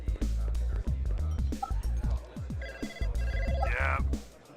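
A telephone rings in the Blade Runner video game, with a bright, repeated electronic trill rising over dense, busy game ambience.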